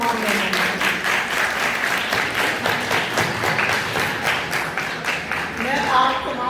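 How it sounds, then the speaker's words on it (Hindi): Audience applause for guests at a school Christmas celebration at Presentation Convent High School in Sargodha, a steady dense burst of clapping from a large crowd lasting throughout. "तो एक जोरदार ताली हमारे तमाम मेहमानों।"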